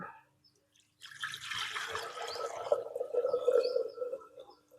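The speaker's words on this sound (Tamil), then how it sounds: "தண்ணி ஊற்றலாம்." Water is poured into a cooking pot for sundakkai (turkey berry) sambar, a steady splashing pour that starts after a brief pause and runs about four seconds, close by and growing slightly louder toward the end.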